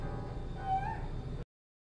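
A cat gives a single short meow in the video game Grim Fandango, faint and brief over a low background hum, before the sound cuts off abruptly.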